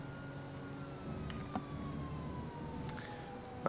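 A police car siren in a police pursuit video game sounds as a slow, gliding wail over a low engine drone, fairly faint and in the distance, with no voices.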